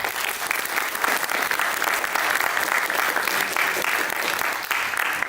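An audience at a school personal project exhibition at Beta Cambridge School applauds continuously, a full, even round of clapping that holds steady from start to finish with no pauses.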